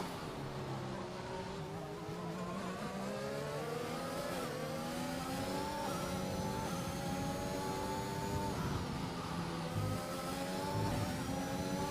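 Several F1 race car engines from a multiplayer league racing video game whine steadily and close throughout, with rising and falling revs as cars accelerate and shift, and no talk over them.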